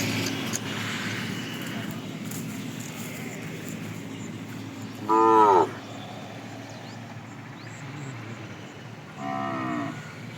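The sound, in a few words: cow calf mooing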